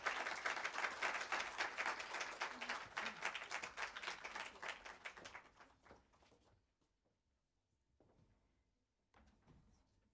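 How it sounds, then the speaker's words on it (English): Audience applause at an evening academic lecture greets a professor, a dense, loud burst of many clapping hands that thins out and fades after about six seconds, leaving near quiet with a few scattered claps. "Give a round of applause to our speaker, Professor Sylvia Tamale."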